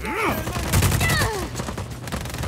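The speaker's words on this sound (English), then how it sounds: "I'm shooting you in the head" Gunfire crackles in the Just Cause 4 video game, rapid shots mixed with game sound effects and swooping tones, loud and close, with a voice speaking over part of it.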